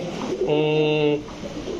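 A single close pigeon coo, a soft throaty tone lasting under a second, with faint background noise before and after.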